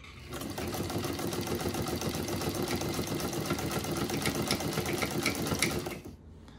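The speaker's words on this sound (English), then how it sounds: "here we've got our zigzag, and I'll just stitch out a bit more of the zigzag." A vintage Sanco Janome 539 sewing machine stitches a zigzag in a steady, fast mechanical whir with rhythmic needle clatter, running close and continuous for about six seconds before stopping.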